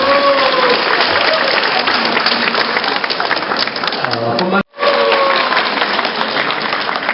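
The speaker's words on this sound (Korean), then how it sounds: "뜨거운 박수 한번 보내주셨으면 좋겠습니다" Sustained applause from the audience at the opening ceremony of a photography festival and art fair in Korea, a dense, steady wash of clapping with some voices mixed in and a brief dropout near the end.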